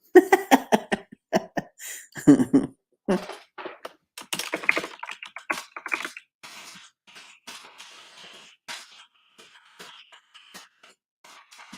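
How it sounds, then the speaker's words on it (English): Rapid clicking of computer keys, dense at first and then lighter and scattered, close by with no talking. "just hear something besides me just typing on my keyboard"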